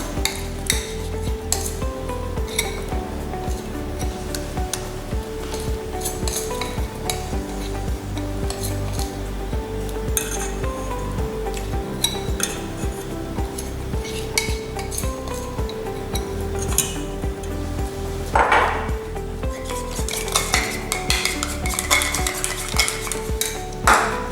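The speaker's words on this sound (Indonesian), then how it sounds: "Ini kita aduk terlebih dahulu." Pudding batter with melted white compound chocolate, egg yolk and yellow coloring is stirred steadily in a pot, giving a continuous scraping and clinking of utensil against metal close up.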